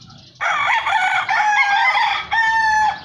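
A gamefowl stag on a farm crows loudly and close, one full cock-a-doodle-doo in several stretched, harmonic segments over about two and a half seconds, with no talk over it.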